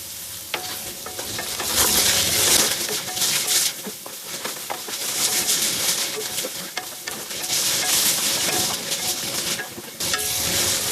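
Onions sautéing in a pan with a little salt, a steady loud sizzle and hiss with repeated scraping stirs of a spatula, rising and easing slightly as the onions are moved around, with no talking over it.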